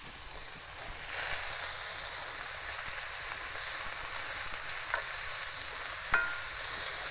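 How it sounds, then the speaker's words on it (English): Onions frying in olive oil for black bean burgers, a steady close sizzle with faint crackles and a couple of sharp pops from the pan, no talking. "The onions have hit the olive oil"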